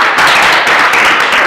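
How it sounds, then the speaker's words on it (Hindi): Audience clapping at a Vrindavan gurukul after a student's memorized Sanskrit recitation, steady dense applause from many hands filling the whole moment at close, loud level. "ताली बजाओ भैया इसके लिए।"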